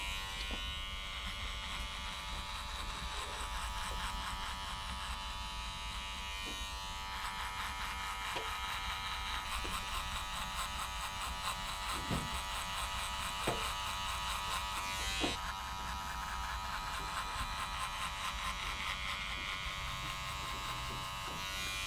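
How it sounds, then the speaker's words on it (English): Electric hair clippers with the lever closed buzz steadily and close up while cutting a skin fade, a continuous even drone with a few faint clicks and taps along the way. "we're gonna start with our clipper closed and mark our line straight across from his head"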